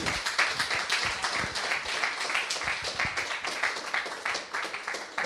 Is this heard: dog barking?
no